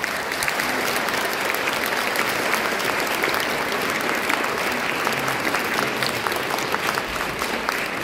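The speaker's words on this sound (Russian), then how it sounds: "Аплодисменты!" A concert audience at a teachers' performance at a children's music school applauds steadily, a dense, even wash of many hands clapping that carries on unbroken at moderate loudness without speech.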